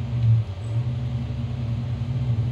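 A low, steady video game car engine rumble idles continuously, with a deep hum holding level throughout.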